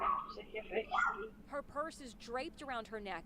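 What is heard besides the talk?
dog barking inside a house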